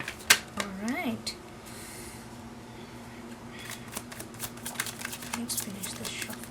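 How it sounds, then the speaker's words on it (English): A deck of tarot cards is shuffled with quick riffling and clicking bursts, while a voice talks over much of it. "Let's finish the shuffle."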